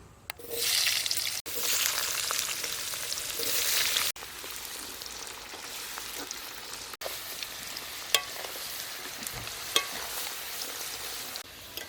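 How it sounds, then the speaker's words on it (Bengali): Potatoes fry in oil, a loud steady sizzle close up that drops to a softer crackle after a few seconds, with occasional stirring clicks and no speech. "এবার আমি আলুগুলো ভেজে নেব"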